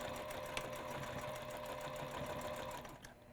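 A sewing machine runs a continuous steady hum with rapid needle ticking while stitching a quarter-inch seam on a tote bag, moderately faint and close, easing off near the end.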